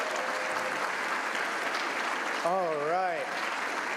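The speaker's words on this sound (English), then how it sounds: "Give it another round of applause." An audience applauds after a startup pitch at a demo day, with sustained, dense clapping throughout and a voice briefly speaking over it near the end.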